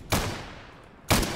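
Two loud, close gunshots in a video game, about a second apart, each a sharp crack with a short reverberant tail, and nothing else between them.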